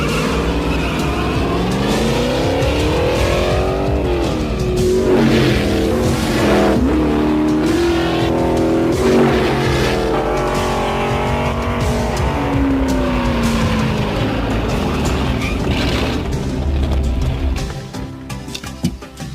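A race car drives hard, its engine loudly revving up and down through gear changes with occasional tire squeal, continuous and close before cutting off near the end.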